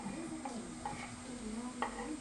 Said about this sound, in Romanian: Se pune usturoiul.